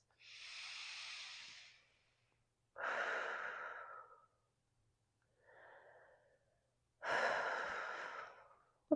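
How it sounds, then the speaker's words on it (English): Slow, deep breaths during a gentle floor yoga stretch, three long airy inhale-exhale sounds with a fainter one between, quiet and close with pauses of silence. "Deep breaths."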